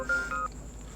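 A couple of short electronic telephone tones beep, then fade into a quiet hum.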